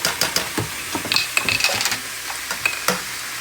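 Drained canned mushrooms hit a hot pan of meat mixture for stuffed peppers and start frying, with a steady sizzle broken by scraping and stirring clatter.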